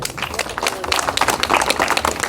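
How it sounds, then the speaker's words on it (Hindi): A group at a health gathering in a garden claps for themselves, with dense, uneven hand claps that build slightly in loudness over a couple of seconds. "एक बार अपने लिए ताली बजा दो।"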